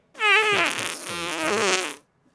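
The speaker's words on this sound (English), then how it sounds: "Tom, put a little fart sound in here." A cartoonish fart sound effect dropped into a podcast episode: one wobbling, buzzy blast lasting about two seconds, loud and close, with no talking over it.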